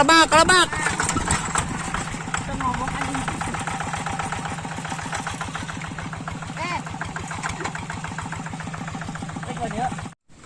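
Tractor engine running with a steady, low, chugging pulse on rocky farmland, close and loud throughout, with people talking over it, cutting off abruptly at the end.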